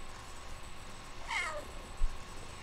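A house cat gives a single drawn-out meow partway through, close and clear against a quiet room, followed by a small thump.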